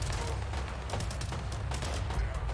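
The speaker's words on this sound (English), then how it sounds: "this is just a combat rifle" Combat rifle fire in Fallout 76, a dense, continuous rattle of rapid shots with heavy low rumble, loud and sustained throughout with no pause.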